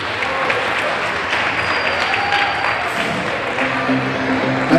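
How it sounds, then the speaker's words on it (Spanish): A crowd at an August fair presentation applauds the organisation's president, a sustained round of steady clapping with some crowd murmur and faint tonal sounds underneath, holding level throughout. "¡Un aplauso para él!"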